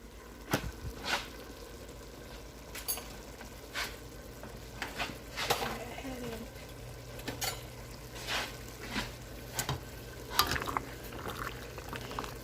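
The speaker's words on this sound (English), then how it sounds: "Just stir this once you add it to that boiling water" Rigatoni pasta being stirred in a pot of boiling water, with soft scattered scraping and bubbling taps over a steady low simmer, close by and fairly quiet.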